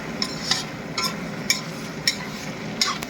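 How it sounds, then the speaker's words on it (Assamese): Cucumber and potato curry fries and is stirred in a pan, with a soft steady sizzle broken by six sharp spatula scrapes and clinks at an uneven pace. "তিয়হ চব্জি বহুত পানী ওলাই আছে, সেইকাৰণে পুৰা ভাজি ল'ব লাগিব"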